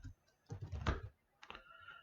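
Fingers typing a command on a computer keyboard, two short quiet bursts of soft key clicks with a pause between, close and alone.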